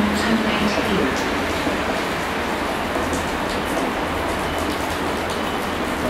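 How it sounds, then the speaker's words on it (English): A train from Taunton pulls into Cardiff Central station with a steady, loud rumble and hiss that continues without a break. "Here comes the Taunton train into Cardiff."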